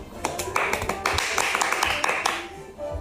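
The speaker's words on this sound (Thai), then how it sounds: "ปรบมือให้คุณเบล" A short, lively burst of hand clapping from a few people indoors, the claps sharp and close, with chatter and voices running under and around them.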